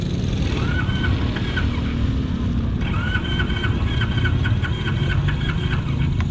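An SSR Lazer 6 motorcycle engine, choked for starting, runs at a rough uneven idle, a close, loud steady rumble with a chattering mechanical rhythm throughout.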